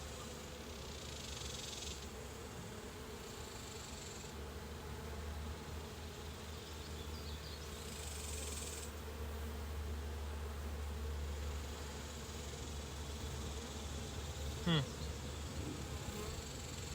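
Honey bees buzz steadily throughout an inspection of a brood-filled hive in July, a dense, constant drone with a single bee zipping close past near the end.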